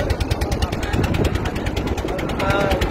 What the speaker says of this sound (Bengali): এই নদী হয়ে ইঞ্জিনের নৌকা দিয়ে যাচ্ছি আখনপাড়া চরে।